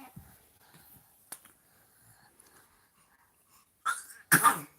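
A single sharp sneeze bursts out near the end of a quiet room during children's pretend tea-party play, preceded by a short intake of breath and small clicks.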